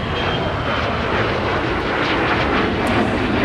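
A KLM heavy jet airliner on pushback at MSP airport produces a loud, steady broadband engine roar with a whining edge, continuous and close throughout.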